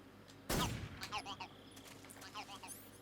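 A 1911 pistol without a suppressor fires in a video game, one sharp, loud burst, followed by people talking.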